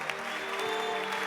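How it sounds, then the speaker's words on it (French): A church congregation applauding during worship, a dense steady wash of clapping that fills the space evenly, with faint voices and a sustained tone underneath. "Tu vas acclamer le Seigneur maintenant."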